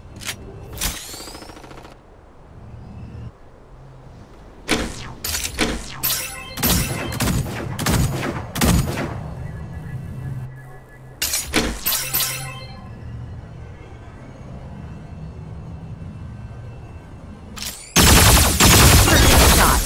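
Gunfire from the mecha combat game Super Mecha Champions rings out in sharp bursts and clustered volleys with shattering impacts, loud and close, separated by quieter gaps and ending in a sustained noisy blast.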